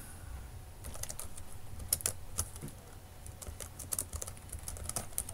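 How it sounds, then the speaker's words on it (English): Typing on a computer keyboard while writing an email subject line: soft, quick clicking keystrokes in uneven bursts over a low steady room hum, with no talking. "So I'm going to type my subject."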